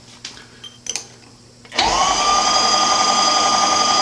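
A power drill bores into a Bendix master cylinder, spinning up abruptly after a few faint clicks and holding a loud, steady high-pitched whine at slow speed.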